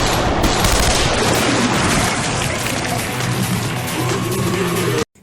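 Heavy-calibre gunfire in an animated show, a loud dense barrage of rapid blasts and crashing impacts that runs continuously for several seconds, then cuts off abruptly.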